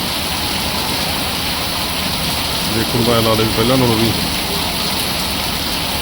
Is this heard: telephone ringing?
no